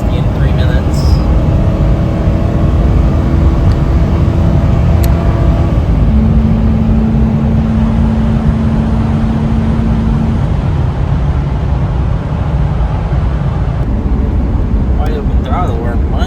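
A high-mileage Ford F250 pickup with about 300,000 miles holds wide open throttle, giving a loud, sustained engine roar with a steady drone throughout.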